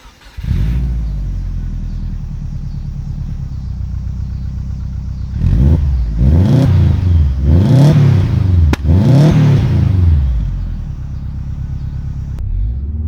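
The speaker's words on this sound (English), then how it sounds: "I'll give you a startup so you guys can hear a little bit of what it sounds like." A 2005 Subaru Forester XT with an aftermarket exhaust starts and settles into a steady, throaty idle, then gets several loud revs in quick succession before dropping back to idle.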